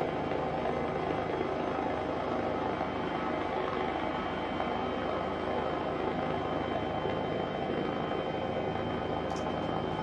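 Airbus H135 helicopter engine and rotor in Microsoft Flight Simulator 2020, a loud steady broadband drone with constant turbine whine that continues without a break for the whole stretch.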